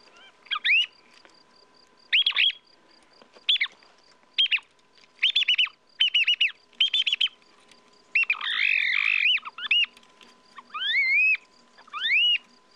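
A bird call device imitating a thrush for glue-stick thrush hunting in Provence, giving short whistled chirps and rising trills in separate bursts with pauses between, clear against a quiet background.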